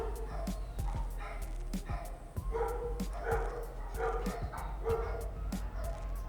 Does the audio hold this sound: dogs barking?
yes